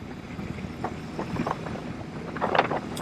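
A 2022 BMW R18 Bagger, an 1800cc cruiser, rides steadily at 2,500 RPM, its low engine drone buried under constant loud wind rush across the whole clip.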